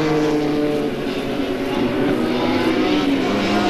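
Formula Holden race cars at Mallala in 1989 make a loud, sustained engine roar as they pass, the note holding steady through the short stretch.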